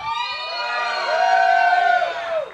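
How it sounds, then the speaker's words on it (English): Crowd at an open-stage comedy show cheers and whoops together, a sustained swelling roar of voices that peaks near the middle before fading out. "Let's hear a cheer"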